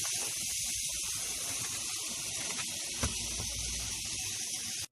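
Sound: kokoreç frying in its own fat in a pan

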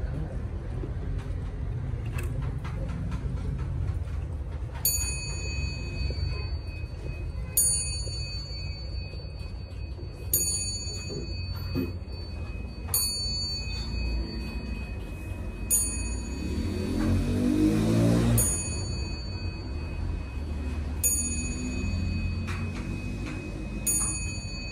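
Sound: chime of 1970 SBS German weight-driven wall clock

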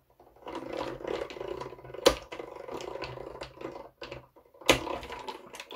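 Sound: cranking paper through a die-cutting machine

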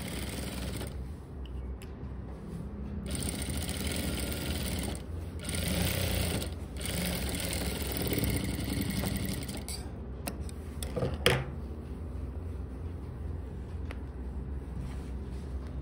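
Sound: sewing machine stitching pant pocket fabric edge

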